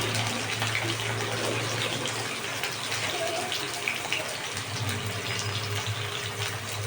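Katla fish heads dropped one by one into hot mustard oil in a pan, giving a continuous loud sizzling hiss that holds steady throughout.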